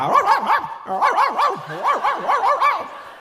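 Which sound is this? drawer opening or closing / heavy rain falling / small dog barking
small dog barking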